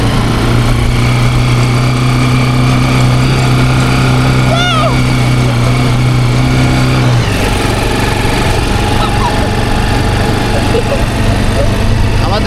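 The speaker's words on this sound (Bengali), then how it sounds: "আমরা এখন বিচ বাইকে।" A beach bike engine drones steadily while riding along a sandy seashore, a loud continuous motor hum with wind rush, its pitch dropping partway through.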